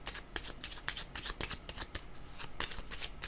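Tarot cards are shuffled for a reading in a quiet room, a soft, close run of rapid riffling flutters repeating in quick bursts.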